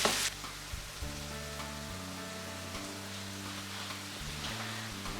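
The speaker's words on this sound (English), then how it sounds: "Saute it well." Onions sauté in a pan for chana masala, a steady, moderate sizzle running under sustained background music, with a brief louder burst at the start.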